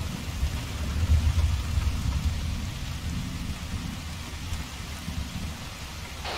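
Steady rain with low rumbling thunder in an Arma 3 combat mission, a broad continuous wash of rainfall and deep storm rumble, heaviest early on and holding through to the end.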